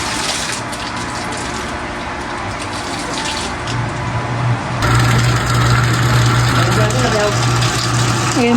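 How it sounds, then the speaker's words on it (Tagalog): Well water pumped through a PVC pipe flows in a steady gush alongside a humming engine, growing louder and fuller partway through, with people talking over it. "Ayan po, tuloy-tuloy na po yung tubig."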